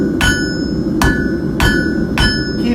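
Hammer striking hot steel on an anvil while forging a hook tool tip, four sharp ringing blows at an even, unhurried pace, close and loud over a constant background hiss.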